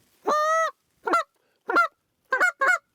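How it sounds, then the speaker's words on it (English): Five soft, nasal Canada goose honks, one longer drawn-out call followed by four shorter ones, spaced irregularly with quiet gaps, fairly close and clear. "if you got birds just settling right in, just nice soft honks"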